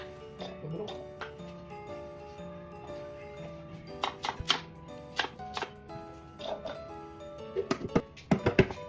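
Onion and carrots are chopped on a board with irregular knife taps, sparse at first and then clustering into quick bursts, fairly close and clear over a faint steady background tone.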